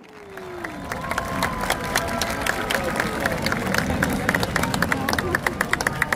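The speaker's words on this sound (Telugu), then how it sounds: "అందరూ చప్పట్లు కరతాళ ధ్వనులతో వాళ్ళ హర్షధ్వానాన్ని వ్యక్తపరిచారనమాట" Outdoor crowd at a heritage village in Qatar applauding after a fireworks show, dense sustained clapping with a steady rhythm of sharp claps, plus scattered voices and a faint whistle-like tone near the start.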